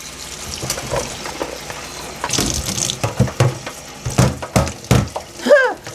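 Tap water runs into a sink over cranberries in a colander, a splashing, uneven gush with irregular bursts and knocks, fairly close.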